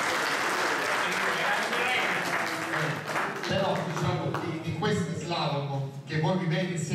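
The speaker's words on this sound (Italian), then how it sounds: "cominciamo a fare un applauso al barone De Paola" Crowd at an official awards ceremony for the 5th Vittorio Minasi Memorial applauds Baron De Paola, dense clapping filling the first few seconds, then fading under a voice speaking over the room.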